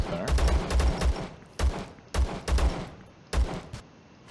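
Gunfire in the video game Zero Sievert crackles in several sharp bursts of shots with short gaps between, loud and punchy, with a faint voice under the shooting.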